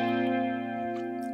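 Distorted electric guitar holds a sustained power chord, thick and loud with a chorus-like effect, ringing steadily with no talk.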